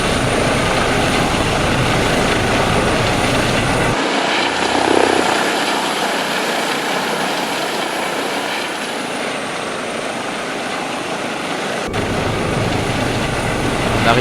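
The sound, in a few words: Eurocopter EC 135 helicopter flying, X-Plane video game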